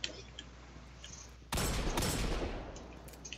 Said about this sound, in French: Cette chose-là m'énerve, j'ai envie de tirer dessus.